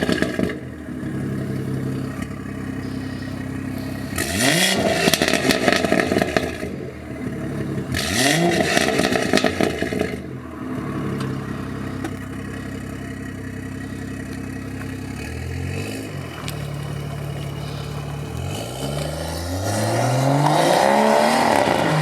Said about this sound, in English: Let's give it a rev. Let's have a little round sound test.